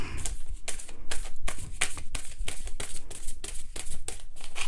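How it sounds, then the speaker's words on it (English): A deck of tarot cards being shuffled by hand, a steady run of crisp riffling bursts and soft slaps close to the microphone, continuing evenly throughout. "Sneaky card that crept into the shuffle."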